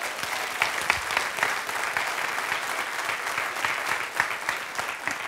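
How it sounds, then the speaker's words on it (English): A church congregation claps in praise after a sermon, a dense, even wash of many hands with a few louder individual claps standing out, steady throughout at moderate distance. "Give the Lord a hand clap of praise."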